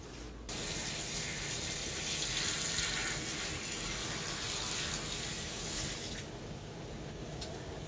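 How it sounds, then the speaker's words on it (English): Hot water mixed with dye pours steadily into a tote full of garments, a continuous close gushing splash that runs for several seconds before easing off. "we're going to go pour this in with the garments and the water that we ran from the hot water tank into our tote now"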